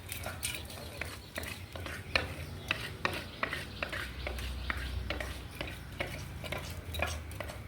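Roasted coriander seeds scraped and tipped from a hot pan into another bowl, giving a run of repeated light clinks and scrapes of a utensil against metal, close by and steady, with no talking.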